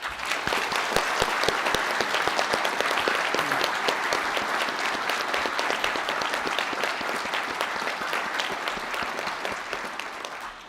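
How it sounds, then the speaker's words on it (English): A hall full of people at a GMIT graduation ceremony at the Galway International Hotel claps steadily in dense, sustained applause lasting several seconds, gradually tapering off at the end. "Can I please ask for a round of applause for Deirdre?"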